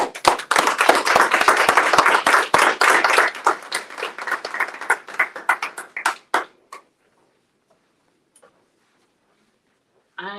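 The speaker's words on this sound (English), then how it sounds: "So let's give a warm round of applause for Stephanie." Warm round of applause from an audience at a youth speaker series event, dense clapping for about six seconds that thins into a few scattered claps and then fades to near silence.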